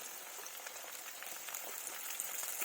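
Tomatoes and potatoes fry together in a pan, a soft, steady bubbling sizzle with fine crackles, quiet and close, with no talking.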